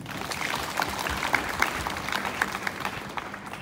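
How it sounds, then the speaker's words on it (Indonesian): Audience at an Indonesian foundation's flag ceremony clapping, a moderately loud crowd of hands with individual claps popping out of the steady patter throughout. "Tepuk tangan buat kita."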